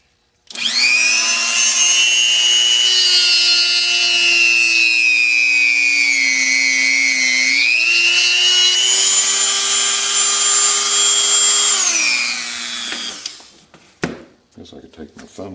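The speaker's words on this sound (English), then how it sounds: "So I'm going to drill it a little deeper" A power drill bores into a carved buffalo skull with a loud, steady high whine that dips in pitch midway, runs about twelve seconds, then stops, followed by a few handling clatters.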